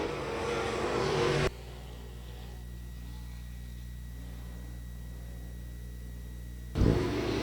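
Dirt track race cars at 281 Speedway rev their engines, loud at first, then dropping to a steady muffled drone before surging loud again at the end.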